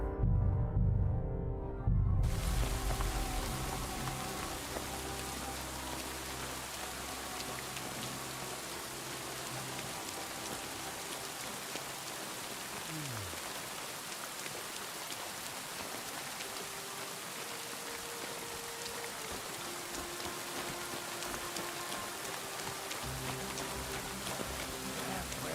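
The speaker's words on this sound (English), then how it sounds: "Yeah, it's raining. Always." Steady rain in the video game Kingdom Come: Deliverance 2 pours down continuously, a dense hiss with a faint tonal hum beneath it and no talking.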